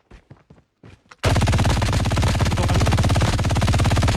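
Rapid sustained automatic gunfire in a video game bursts in loudly after a few quiet clicks and short shots, then continues as a dense, unbroken rattle to the end.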